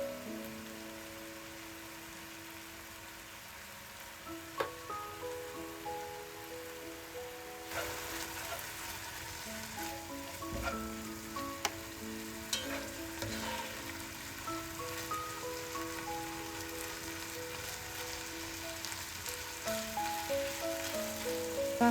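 Minced meat frying in oil with pre-fried onions for vavishka, a continuous crackling sizzle with scattered pops that grows busier partway through, close and alone.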